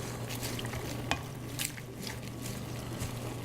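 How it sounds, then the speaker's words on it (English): A spoon stirring paella in a pan, with faint scraping and soft clinks over a steady low sizzle and hum, including one sharper knock near the middle; no one speaks. "Hand me the spoon and I'll stir this in a little bit."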